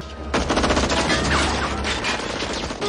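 Gunfire from the film Batman Returns: a loud, continuous burst of rapid shots and rattling fire, dense and sustained, with no speech over it.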